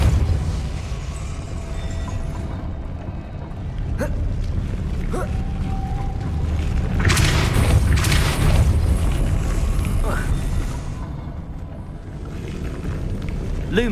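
Depulso force spell cast in the Hogwarts Legacy video game: a deep booming burst with a rushing swell mid-clip, set over steady rumbling game ambience, with a few sharper magical accents on either side and no talking.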